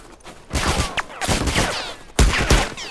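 A silenced tactical shotgun fires in The Last of Us, three muffled blasts spaced about a second apart, each with a short rattling tail, set against faint game ambience.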